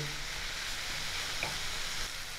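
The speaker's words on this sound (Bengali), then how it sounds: "মেথি শাকটা ভালো করে ভাজা ভাজা করে নেব।" Fenugreek leaves frying in a pan for methi aloo dum, giving a continuous close sizzle and hiss at an even level, with faint stirring and no voices.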